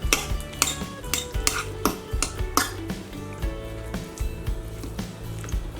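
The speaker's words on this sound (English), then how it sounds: "Just kind of shred the meat off of there, and I'll mix it all together" Shredded turkey leg meat is stirred into sloppy joe sauce, a utensil clinking and scraping against the pot in irregular bursts alongside soft wet squishes, fairly close, with no talking.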